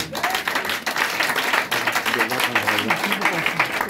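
A church congregation bursts into dense, continuous applause and clapping, with a preacher's voice speaking over the crowd.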